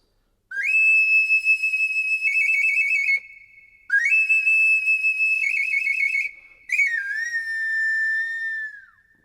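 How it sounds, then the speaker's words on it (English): An Aztec flower flute, a small pre-Columbian instrument, plays three loud, clear whistling phrases with wavering trills and a final downward slide, separated by short pauses, with no talk. "commonly called the flower flute. This little flute was used by the Aztecs"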